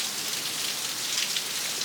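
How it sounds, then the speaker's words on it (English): Steady heavy rain during Hurricane Beryl in Jamaica, a dense constant hiss of drops hitting surfaces, close and unbroken, with no voices. "I'm not going to go out in the rain"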